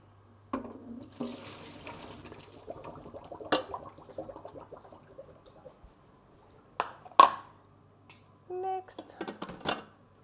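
Water gushes out of a Thermomix TM6 pot into a sink after steaming, in an uneven pour, followed by a few clanks and splashes as the pot is set down.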